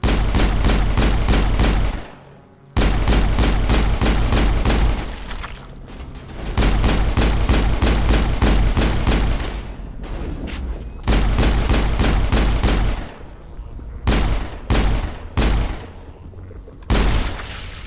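Pistol fire in the sci-fi shooter Mass Effect, a dense, loud run of rapid shots that stops briefly and resumes several times, with short bursts near the end.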